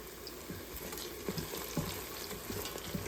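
Vegetables sautéing in an Instant Pot, with a faint, steady sizzle and light scraping stirs throughout.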